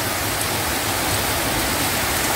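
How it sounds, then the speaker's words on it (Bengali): Heavy rain pours down in a steady, loud, unbroken roar, a dense wash of falling water with no gaps and no voices. "ভালো জোরে বৃষ্টি হচ্ছে।"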